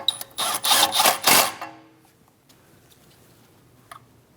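A ratchet snugs down a brake line bracket bolt on a 2016–2025 Chevrolet Malibu, a quick burst of close metallic clicking for about a second and a half, then near silence with one faint click.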